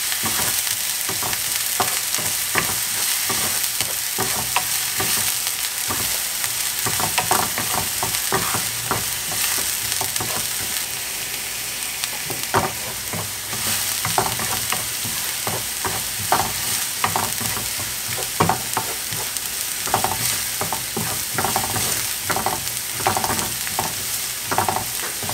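Chopped onion and green chillies fry and sizzle in a pan, with steady hissing throughout and repeated clinks and scrapes of a spoon stirring them, close and continuous with no talk.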